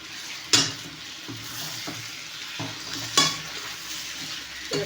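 Tomato thokku cooking in a pan with rock salt, giving a soft steady sizzle broken by a few sharp clinks of a spoon or ladle against the pan, with no talking.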